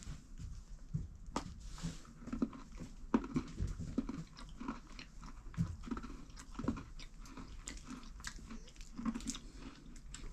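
Biting into and chewing a crunchy Tactical Foodpack chocolate energy bar, close-up, with repeated crisp crunches and wet chewing in an irregular rhythm over several seconds.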